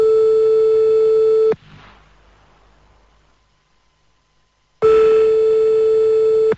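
Steady telephone busy tone after a number is dialed, loud and continuous for about a second and a half, then a quiet hiss and near silence, before the same tone returns abruptly and holds to the end. No one speaks.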